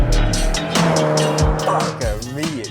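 A 2003 Mitsubishi Lancer Evolution 8 FQ300 accelerates hard, its engine note rising and shifting through revs with tire noise, loud and close.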